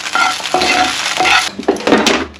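Vegetables tipped into a hot pan and stirred as they fry, loud close sizzling broken by repeated spatula scrapes against the pan bottom, with no talking.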